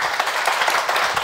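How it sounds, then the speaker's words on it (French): Studio audience applauding guests on a French television set, a steady wash of clapping throughout with no distinct voices. "qu'on accueille en plateau Kautar avec des applaudissements pour nos invités."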